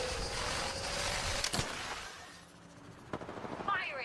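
Video game firefight with bursts of distant gunfire, sharp cracks at intervals and a rattling series of shots near the end over a muffled background rumble, with no one talking.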